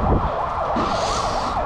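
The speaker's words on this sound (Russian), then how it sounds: "Полицейская машина с арестованными." A police car siren wails on a busy central London street, its rising and falling tone sweeping repeatedly, loud and close over traffic rumble.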